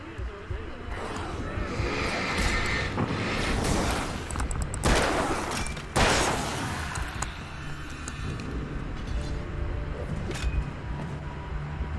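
A flashbang detonates in the video game Alan Wake amid dense, continuous game noise, with sharp broadband bursts standing out near the middle.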